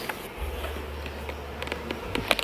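Honeybees hum around an open hive while frames are moved from a five-frame nuc into a full hive, a steady low drone near the microphone with small clicks and taps of handling and no voices.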